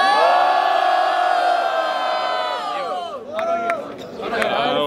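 A loud crowd at a Brazilian rap battle roars and cheers continuously, a dense wash of shouting voices that dips briefly and then rises again.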